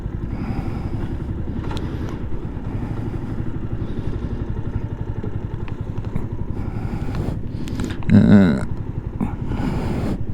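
A motorcycle in Largs idling close by, its engine putting out a steady low rumble that swells briefly near the end, while someone talks over it.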